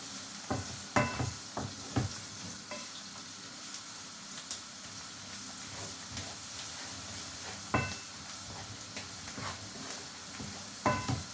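Red chili pepper flakes toasting in a pan over steady faint sizzling hiss, with scattered soft stirring clicks and scrapes at irregular intervals, a few sharper knocks near the start and end.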